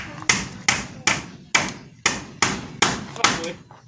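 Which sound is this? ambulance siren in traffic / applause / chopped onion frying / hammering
hammering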